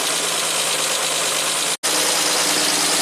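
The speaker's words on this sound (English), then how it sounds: "This is the throttle here, just pressing this bar. Sounds really smooth." A 1967 Triumph GT6 engine runs loud and close with the throttle pressed, a dense steady roar that cuts out for a split second before picking straight back up.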